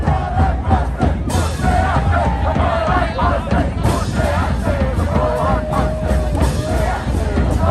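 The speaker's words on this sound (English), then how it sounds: "It's a loud crowd right there." Loud outdoor crowd at a March for Life rally in Washington, DC, with dense chatter, shouts and cheers filling the scene continuously and close by.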